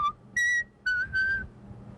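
A child whistles a few short, clear tones, one brief note, then a sustained higher pitch, then two longer wavering notes, each separated by short pauses, close and alone.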